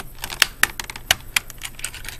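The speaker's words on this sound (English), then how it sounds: "Just hold the key as you pry it off." Small plastic clicks and snaps from a computer keyboard as a keycap is pried off with a small flathead screwdriver, several crisp close taps at irregular intervals, with no voices.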